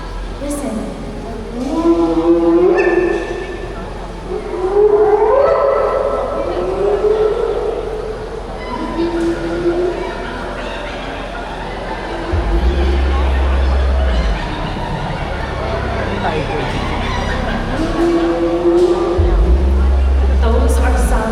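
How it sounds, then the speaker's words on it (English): Spotted hyenas give a series of rising whooping calls, several drawn-out whoops spaced apart, heard in an amphitheater setting with a low rumbling hum beneath parts of the sequence. "Those are some of the many calls of the spotted hyena."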